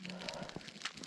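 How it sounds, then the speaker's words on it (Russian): A campfire kindled with birch bark and burning papers in a frosty taiga forest, giving close, brief crackles and snaps over a soft, steady roar. "костер горит"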